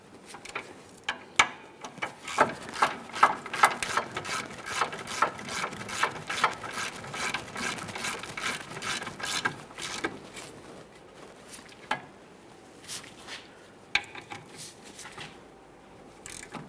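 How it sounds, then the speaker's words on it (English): A ratchet clicks rapidly and steadily as it snugs the rear brake mounting bolts on a 2007-2013 Acura MDX, close and continuous with a few sharper clicks and no speech. "We'll snug these up and then torque them to 65 foot-pounds"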